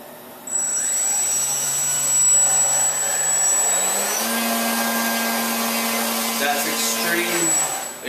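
Electric motor of a Parkzone Archer RC plane spins up on the bench, a loud whining propeller drone rising in pitch in steps and holding steady, with a voice speaking under it.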